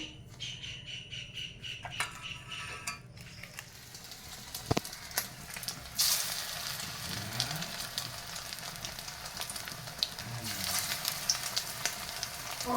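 Prawn chops coated in a spiced gram-flour batter fry in hot oil, dropped in one after another, giving a steady close sizzle that surges into louder crackling bursts as each new piece hits the oil.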